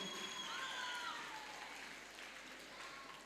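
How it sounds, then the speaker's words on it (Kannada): A crowd at a junior pageant gives contestants a sustained round of applause, a steady wash of clapping that tapers slightly toward the end. "ದೊಡ್ಡದಂತ ಚಪ್ಪಾಳೆ ಬಂದ್ಬಿಡ್ಲಿ ನಮ್ಮ 1 to 14 ಕಂಟೆಸ್ಟೆಂಟ್ಗೆ"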